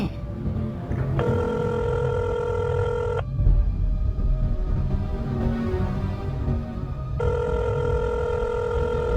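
A mobile phone rings unanswered on an outgoing call, two bursts of steady ringback tone separated by a pause, heard over a low continuous rumble of outdoor background noise.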